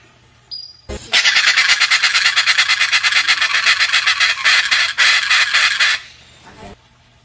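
A vulturine parrot, also called the Dracula parrot, gives a loud, harsh, continuous screech lasting several seconds. The screech pulses rapidly and breaks off briefly before stopping abruptly.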